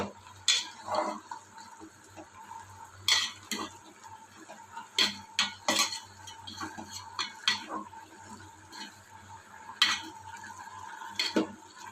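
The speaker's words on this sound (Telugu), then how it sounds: "మధ్య మధ్యలోని కూరనైతే కలుపుకోవాలి ఫ్రెండ్స్" Spoon stirring pumpkin shoot curry in a pan on the stove, scattered scraping clinks and knocks at uneven intervals over a faint low simmer, close and alone without voices.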